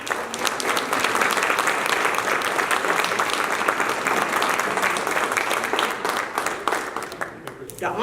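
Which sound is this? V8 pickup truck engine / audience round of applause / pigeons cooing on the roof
audience round of applause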